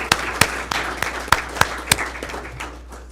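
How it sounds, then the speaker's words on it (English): Scattered applause from a small school board meeting audience honoring the Teachers of the Year, with a handful of distinct claps standing out over a faint hum, thinning out toward the end. "So let's give them a round of applause."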